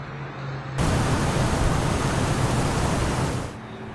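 Heavy rain pours down in the Inland Empire around dinner time, a dense, loud hiss that cuts in abruptly, holds steady for about three seconds, then drops back to a softer background.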